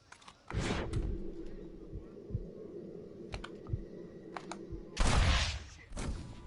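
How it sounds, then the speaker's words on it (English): A gunshot fired at a skull in Red Dead Redemption, a sharp blast at the start, then a low rumbling game ambience with faint clicks and another loud burst of fire later on. "Shoot that skull and demonstrate the miraculous eyesight you now possess"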